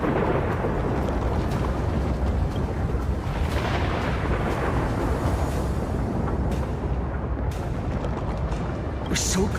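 Thunder in the video game Honkai Star Rail, a dense continuous roaring rumble with booming swells throughout, loud and sustained, with a voice speaking over it.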